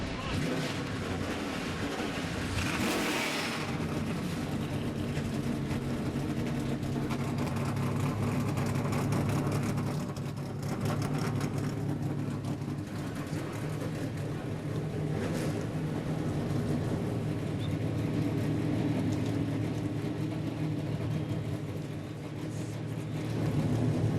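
NASCAR truck engines at Canadian Tire Motorsports Park fire up and run together, a loud, dense, continuous roar and rumble with revving surges, crowd and announcer noise mixed beneath.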